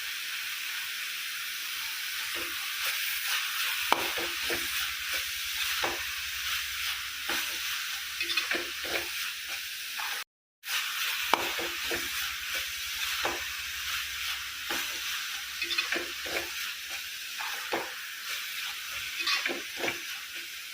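Dried fish curry with country eggs frying in hot oil in a pan, a steady close sizzle with occasional stirring scrapes and clinks over the continuous hiss.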